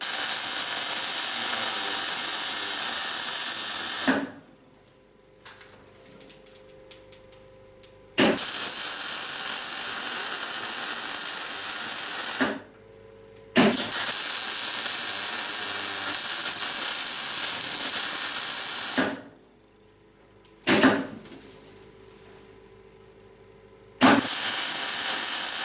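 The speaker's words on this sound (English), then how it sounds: "the plan is to cut two little pieces of this 10mm steel here" Loud, steady bursts of abrasive cutting on 10mm steel pieces for railroad switch parts, several sustained cuts of a few seconds each separated by short quiet pauses, close and harsh with no talk.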